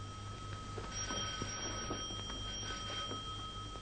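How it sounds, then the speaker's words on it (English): A doorbell rings continuously with steady tones, somewhat distant and moderately quiet, a faint hum underneath. "The doorbell."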